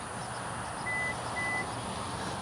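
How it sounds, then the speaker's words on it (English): Power tailgate of a 2024 Hyundai Santa Fe Calligraphy confirming a height reset with two short, clear electronic beeps over a steady low background hum. "when you hear those beeps, you're going to know that the tailgate height has been reset"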